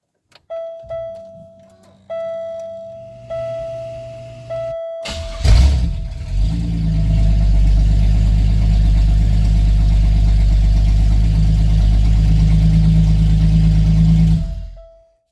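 Supercharged 3800 V6 in a Buick Riviera with a custom equalizer exhaust: a few clicks and a warning chime, then the engine cranks and fires into a loud, deep, droning idle that runs steadily until it is shut off near the end.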